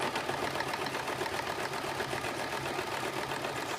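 A sewing machine stitches a buttonhole on a circle skirt, its fast even needle rhythm whirring close and steady throughout with no voices.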